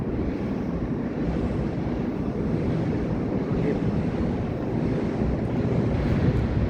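Steady broadband sea wash and wind rumble in front of a condo on Manila Bay, continuous and fairly loud with gusty wind buffeting the microphone throughout, no voices.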